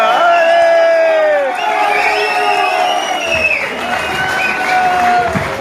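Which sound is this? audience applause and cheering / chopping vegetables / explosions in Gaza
audience applause and cheering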